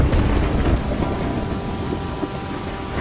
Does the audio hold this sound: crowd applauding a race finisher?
no